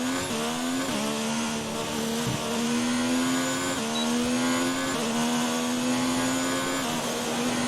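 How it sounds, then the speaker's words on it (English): A Formula 1 car engine in the F1 2019 racing game screams at high revs, climbing steadily through repeated gear shifts marked by brief dips, loud and continuous with no talk. "the Haas engine sounds different than the McLaren engine"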